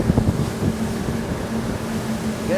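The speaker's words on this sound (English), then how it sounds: "Again, there's quite some wind." Steady wind roars across the microphone aboard a Sea Ray SDX 290 outboard boat on open water, a broad continuous rush with low engine drone beneath and no talking.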